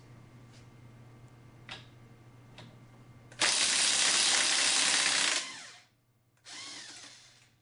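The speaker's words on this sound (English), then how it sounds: "the easiest way to remove the bolt is with an impact wrench" A loud impact wrench rattles continuously for about two seconds while loosening the swing arm pivot bolt on a Honda Grom motorcycle, then stops and fires again in a shorter burst after a brief pause, following a few quiet clicks.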